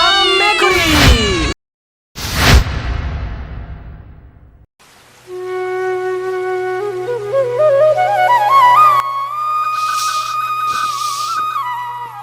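A cat meows several times up close and loudly, with sharp bursts at the start, then a longer stretch of drawn-out, rising tonal sounds in a short comic film.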